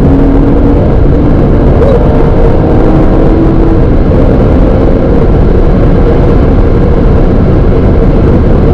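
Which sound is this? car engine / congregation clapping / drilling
car engine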